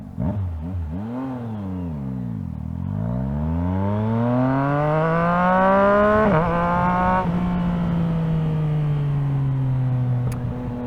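A 2024 Yamaha MT-09 motorcycle revs hard and shifts with its auto blipper, loud and close, its pitch climbing in repeated surges then settling into a steady high drone, with no talk.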